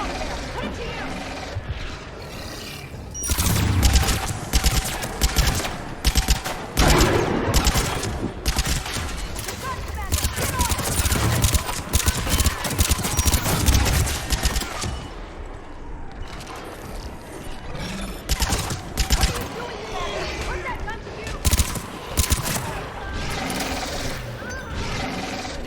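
Mounted gun fire in a video game battle, with sustained rapid bursts and mechanical clattering that stay dense and loud throughout, while shouted voices mix in over the din.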